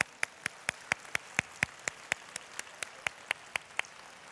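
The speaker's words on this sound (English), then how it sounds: "We're going to clap loudly now for all of our participation and the hard work we've" Audience clapping at a Health Stream Summit 2013 keynote, heard as sharp, evenly spaced claps in a steady beat of about four per second, moderately quiet, with no talking.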